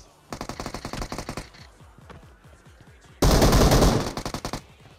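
Automatic gunfire in PUBG Mobile: a rapid burst of shots, then scattered quieter distant shots, then a second very loud, dense burst of firing close by.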